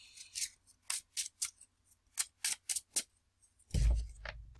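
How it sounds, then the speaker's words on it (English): A deck of playing cards is riffled and bridged during a tabletop card game, several quick crisp bursts of flicking paper in a row, then a louder soft thump as the deck settles. "Well, I have to shuffle."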